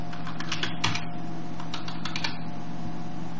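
Quick keystrokes on a computer keyboard as a sudo command is typed into an Ubuntu terminal, several close bursts of clicks with brief pauses over a steady low hum, no talking.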